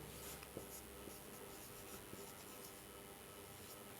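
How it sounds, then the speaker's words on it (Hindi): Chalk or marker writing on a board during a grammar lecture gives faint, close scratching strokes with a few light taps, set against a steady hiss of room noise. "आगे मैं आपको और लिखता हूं, देखो"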